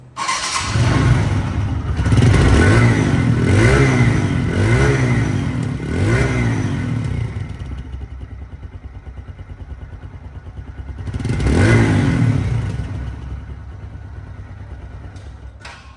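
A second-hand TVS motorcycle engine runs close by, with a series of throttle blips that rise and fall, then an idle, then one more rev, all with no talk.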